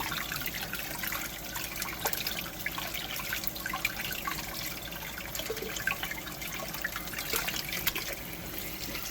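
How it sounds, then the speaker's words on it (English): Cold tap water runs steadily over homemade butter being washed in a kitchen sink, a continuous hissing, splashing stream at moderate distance with small irregular drips and spatters and no talk. "And you keep washing it until the water runs clear."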